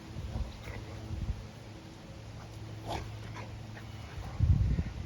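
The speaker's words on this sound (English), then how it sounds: "There's our crazy dog who loves fireworks." A dog whimpers in short, faint bursts during a fireworks display outdoors, with a louder scuffling burst near the end.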